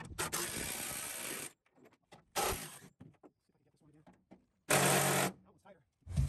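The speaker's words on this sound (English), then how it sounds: "I'm gonna use my 3/8 impact gun to do that with a 55 Torx socket." 3/8 inch impact gun with a 55 Torx socket removing the bed bolts on a first-generation Toyota Tundra, three loud close bursts of rattling hammering of one to two seconds each, with quieter clanks between and a voice in the gaps.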